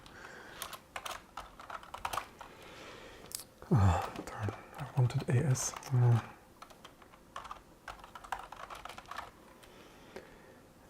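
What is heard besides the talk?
typing on a Mac keyboard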